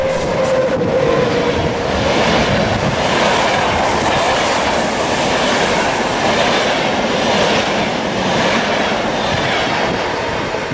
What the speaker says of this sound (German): Und deshalb gibt es auch nach Österreich direkte Intercities in die Urlaubsgebiete.